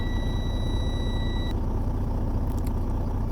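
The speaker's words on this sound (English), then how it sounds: "We're also going to be watching for when our low warning light and buzzer goes out." A tractor trailer's low air pressure warning buzzer sounds as a steady high electronic tone for about one and a half seconds, then stops abruptly, over the loud constant rumble of the idling diesel engine.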